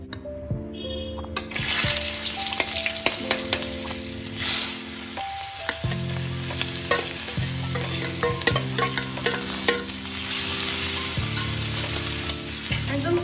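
Tomato, ginger paste, onion paste, chilli and garlic masala frying steadily in a pan for the whole stretch, with stirring clatter and sharp spoon knocks over the sizzle; a faint tap-like water sound runs beneath it.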